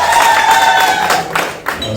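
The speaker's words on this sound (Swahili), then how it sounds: "Makofi na vigelegele tafadhali." An audience at a Mjimwema, Mbinga group gathering clapping loudly with high warbling ululation over the applause, continuous for two seconds and dipping briefly near the end.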